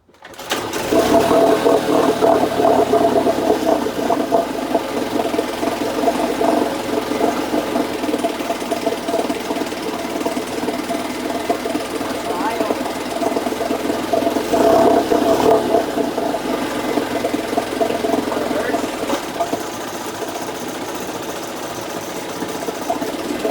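A 1980 Chrysler Sea King 15 horsepower outboard motor runs steadily at a loud, whirring idle with a slight knocking rhythm, holding even for over twenty seconds with no talk.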